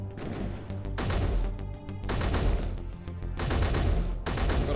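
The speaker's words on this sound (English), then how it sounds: "Someone else is shooting from a different direction." Gunfire in the video game Space Engineers: repeated bursts of rapid automatic shots in three main volleys separated by short gaps, loud and close, with no talking.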